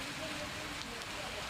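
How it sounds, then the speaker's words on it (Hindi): Heavy downpour in Rajasthan, a steady dense wash of rain noise throughout with no breaks, fairly faint and even. "अब आप अंदाजा लगा दीजिए कि किस तरीके से झमाझम बारिश हो रही"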